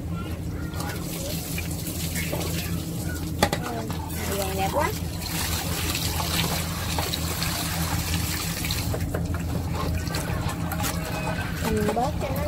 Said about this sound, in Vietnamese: Xả nước cho nó sạch.